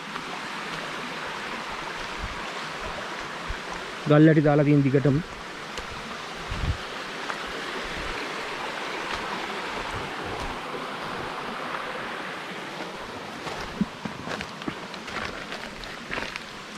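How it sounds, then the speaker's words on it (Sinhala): Clean water flows steadily along a stone-lined channel, a constant rushing murmur heard at close range. A voice speaks over the running water, and a brief tonal sound rises for a moment early on. "හොඳ පිරිසිදු වතුර එන දොළ පාරක් තියෙනවා"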